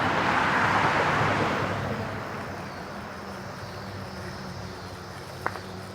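A steady roar of road traffic rushing by beneath a bridge, loud at first and easing into a broad, continuous wash of distant cars.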